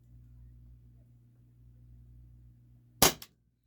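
Walther PDP Compact T4E training pistol firing once with blowback: a single sharp, loud pop with a quick mechanical slide snap right after it, following several seconds of quiet low hum.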